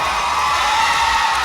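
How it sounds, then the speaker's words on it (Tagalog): A beauty pageant crowd roars with loud, sustained cheering and shouting for a contestant during the final question-and-answer portion, a dense wall of voices with no pauses. "Grabe yung hiyawan dito sa side na to"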